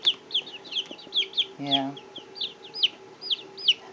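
Baby chicks peeping in a rapid stream of high, repeated chirps close by, with one brief spoken word partway through.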